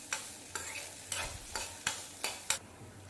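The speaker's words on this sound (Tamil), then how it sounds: "லோ டு மீடியம் ஃப்ளேமில் வச்சு அந்த இஞ்சியை நல்லா வதக்கிக்கோங்க" Ginger sautéing over a low to medium flame, soft sizzling under about six evenly spaced scraping stirs of a spoon against the pan, close and fairly quiet, with no talking.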